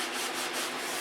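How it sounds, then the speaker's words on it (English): Brisk hand sanding of a model airplane with 320 grit sandpaper, a continuous close scratchy rub with a few quick strokes. "Sanding all the rough spots out."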